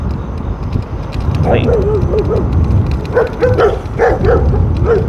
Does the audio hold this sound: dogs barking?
yes